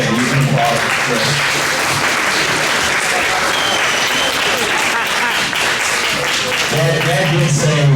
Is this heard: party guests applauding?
yes